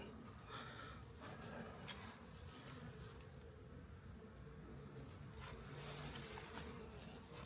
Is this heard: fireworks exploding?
no